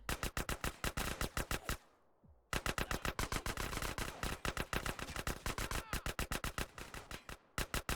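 Automatic gunfire in the video game GTA San Andreas, long rapid rhythmic bursts of evenly spaced shots, loud and close, broken by brief pauses, with no talk over it.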